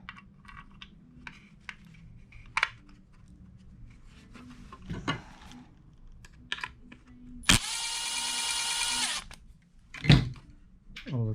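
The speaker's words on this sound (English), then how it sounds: "let's get some screws in here and see how it fits." A power driver sets screws into a heavy-duty dual graph mount for a bass boat, with one loud whirring burst lasting a couple of seconds amid scattered taps, clicks and handling knocks.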